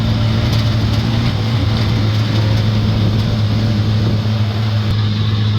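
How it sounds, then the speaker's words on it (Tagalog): Motorcycle engine running with a steady low drone and a faint rattle, loud and close throughout, with no talk over it. "Kumakaldag yung motor natin."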